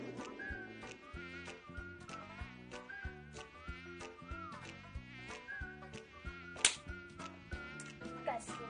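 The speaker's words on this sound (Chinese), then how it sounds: "该死的蚊子" A mosquito whines in a thin, high buzz that drifts in and out over steady rhythmic background music, faint and close, with no talk.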